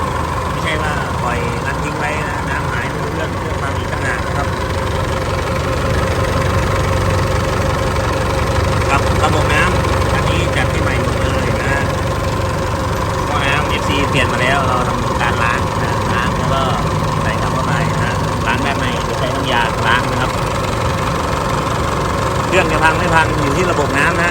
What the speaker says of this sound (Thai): จะทำการสตาร์ทเครื่องยนต์ทิ้งไว้นะ